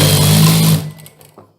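A sewing machine runs steadily for under a second while two fabric seams are stitched together for a dress, then it stops, leaving faint fabric handling and small clicks.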